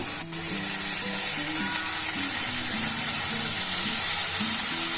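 Spice paste with coriander powder, cumin powder and salt fries in a pan, making a steady, even sizzle over faint background tones.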